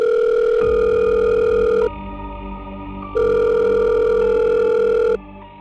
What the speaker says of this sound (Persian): پلیس ساعت 5 صبح به این تماس تلفنی هولناک جواب داد